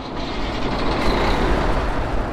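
Big rig diesel engine idling and rumbling in the American Truck Simulator game, a steady loud low drone that rises slightly after the first second, with no voices over it.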